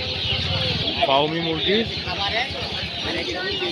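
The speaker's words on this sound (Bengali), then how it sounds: "এই যে এগুলো হচ্ছে ফাউমি মুরগি" Fayoumi chickens cluck and murmur close by at a livestock and bird market while someone talks over them, with a constant hiss of background noise.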